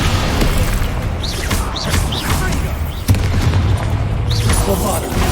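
Heavy magical slams and booming impacts from the Descendo spell in the PS5 game Hogwarts Legacy, loud and dense, with a steady low rumble of combat underneath.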